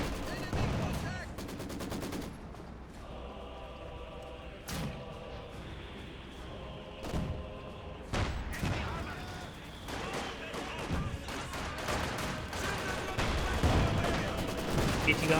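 Company of Heroes 2 battle with an artillery barrage and gunfire: continuous machine-gun rattle, heavy booming impacts and explosions layered densely throughout, with a voice talking over the combat.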